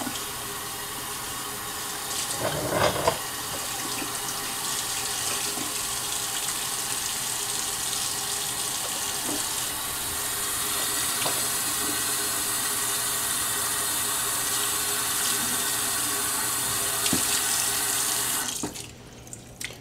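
A bathroom tap runs steadily into a sink to soak a towel for a hot towel straight razor shave, a loud constant gush that cuts off abruptly near the end.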